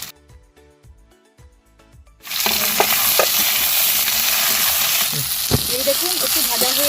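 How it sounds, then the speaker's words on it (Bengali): After a quiet opening with a few soft knocks, onion and capsicum hit a hot pan and sizzle loudly and continuously, with stirring clatter throughout. "এই দেখুন একটু ভাজা হয়ে গেছে পেঁয়াজ আর ক্যাপসিকামটা"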